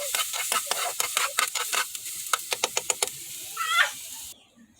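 Chopped bitter gourd (ampalaya) cooks in a pan, a series of sharp rhythmic scraping and stirring strokes over a light sizzle, close by, ending with a brief squeak and quiet.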